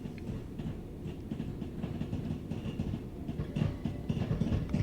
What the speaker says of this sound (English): Wait for the back of the train to pass